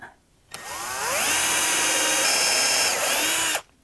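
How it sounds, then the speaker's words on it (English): A power drill pre-drills into the end of a wooden box, the motor spinning up with a rising whine, holding a steady high buzz for about three seconds, then cutting off; close and loud, with no talking. "I'm going to pre-drill the end here"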